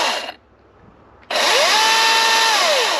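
A Milwaukee M18 top handle battery chainsaw cutting wood in a woodyard: a brief whine, a pause, then a loud sustained electric motor scream with a rising and falling pitched tone, close to the microphone.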